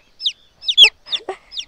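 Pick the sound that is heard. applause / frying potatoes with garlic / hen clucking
hen clucking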